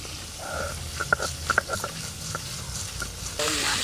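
Fish fries in a pan with a soft background sizzle, broken by sharp clinks and scrapes of a utensil against the pan, and a louder burst of hissing near the end.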